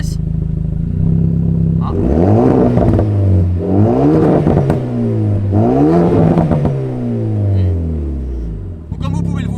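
A Renault Megane 4 RS with a stage 1 tune revs hard in race mode, with several loud rising and falling engine sweeps close by, a brief exclamation at the start and a burbling idle between revs.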